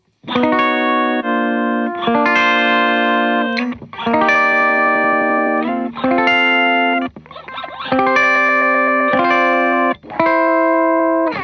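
An electric guitar plays sustained chords through a Meris Enzo X effects pedal, with a wavering, warbling shimmer on the notes.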